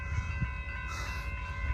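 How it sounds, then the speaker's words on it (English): Amtrak Capital Corridor passenger train 535 led by a 2009 F59PHI locomotive passing at Bayfront Park in Pinole, California, a steady close rumble with sustained tonal whine across the whole stretch, no voices. "Amtrak Capital Corridor train 535 going to the Oakland Jet London Square."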